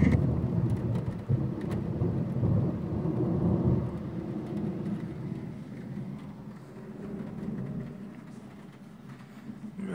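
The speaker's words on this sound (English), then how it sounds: "now listening to the storm" A thunderstorm with rain gives a continuous, loud low rumble of thunder over a steady wash of rainfall, swelling in the first few seconds and then easing off slightly.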